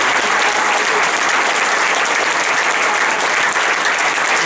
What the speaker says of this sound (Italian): vi pregherei di fare loro un grosso applauso